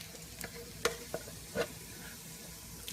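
Browned onions meeting frying oxtail in a pot for a South African oxtail stew, giving a quiet steady sizzle broken by a few short stirring clicks and knocks.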